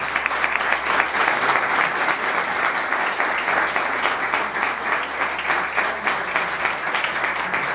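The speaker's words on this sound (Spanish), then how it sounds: "Un aplauso para Domi, venga." Crowd of guests at a party at the Diputación de Ávila applauding a person, dense steady clapping held at an even loud level for several seconds with no talk.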